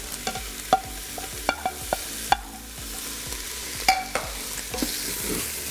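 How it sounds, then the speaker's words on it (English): Steak, mushrooms and onions sizzle in a pan while a utensil stirs them, steady frying hiss broken by frequent sharp scrapes and clinks close by. "once your steak's done, we're just gonna add the mushrooms and onions just right back in"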